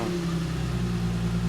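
An Infiniti G35 with a Borla exhaust runs close by, its engine holding a deep, steady harmonic rumble with a slight rising edge, loud and unbroken.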